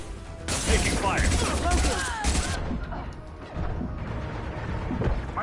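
Gunfire in the Mass Effect video game: bursts of rapid shots and crashing impacts for the first few seconds, loud and close, then quieter scattered thuds and mechanical clatter.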